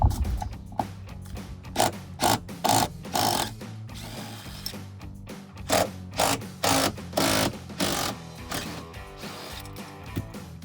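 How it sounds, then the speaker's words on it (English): A Torx bit on a 3/8 extension works loose the rear seat bracket bolts in a Jeep Wrangler JL, giving a near, rhythmic series of short mechanical bursts with faint clatter between them. "I'm now using our 3/8 extension with the Torx bit. We're going to remove the rear seat bracket"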